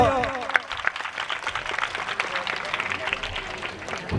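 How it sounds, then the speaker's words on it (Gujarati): Audience applause at a family stage event, a dense, steady patter of many hands clapping throughout, with crowd noise underneath. "તાળીઓ."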